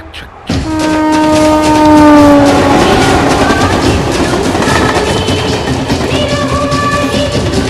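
A train with a loud horn blast at the start, followed by steady rolling rumble and rattling wheel noise as it runs, with a second, fainter horn near the end; no talk.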